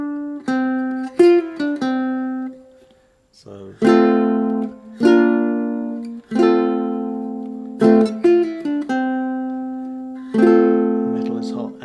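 Fingerstyle ukulele riff, plucked notes ringing out in clear phrases with bright decaying tones and short pauses, played alone and close up after a single spoken word.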